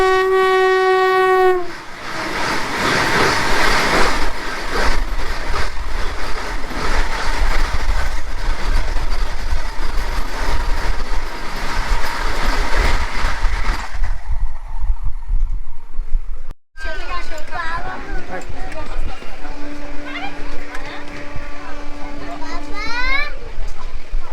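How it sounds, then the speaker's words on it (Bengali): An intercity express train pulls into a station, loud rolling rail noise and horn blasts filling the platform, then quieter station ambience with a steady tone and children's voices in the background. "অবশেষে কুড়ি মিনিট লেটে আমাদের ট্রেন এসে পৌঁছালো"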